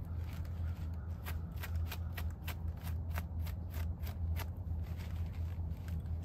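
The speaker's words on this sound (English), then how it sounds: "just take the fine teeth on the comb and just kind of scrape away at the burrs" Rapid, steady scratching of a fine-toothed comb raking burrs off clothing, a dense run of short brisk strokes close up over a constant low hum, with no talk.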